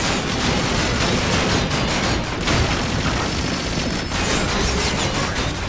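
Loud, dense volleys of gunfire and booming impacts while shooting at snipers in Transformers: Dark of the Moon, continuous and chaotic without a break.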